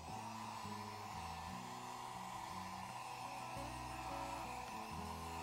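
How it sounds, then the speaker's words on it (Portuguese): Hair dryer drying paint on MDF, a steady continuous whirring blow with a broad hiss, close and constant throughout with no talk. "Aqui eu tenho um secador."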